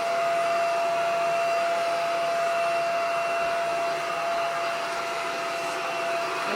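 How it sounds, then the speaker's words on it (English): A Simplicity S67 cordless stick vacuum runs continuously close by, giving a steady motor whine with a fixed high tone and airy rushing. It holds evenly throughout with no talking. "vacuum the fan."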